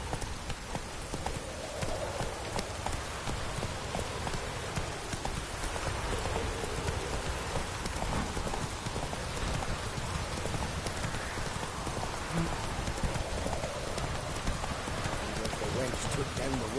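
Horse hooves clip-clop at a steady pace through heavy rain in The Witcher video game, with a dense hiss of rainfall filling the background throughout.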